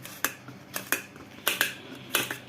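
Knife chopping cucumber into small pieces on a board, low to the floor; several sharp close clicks in uneven pairs, moderately loud, with no talking.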